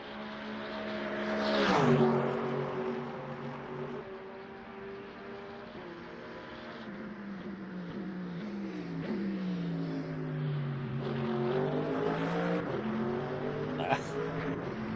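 A throaty race car engine in the Le Mans Ultimate game drones steadily, its pitch swooping up and down through gear changes and corners while someone talks over it.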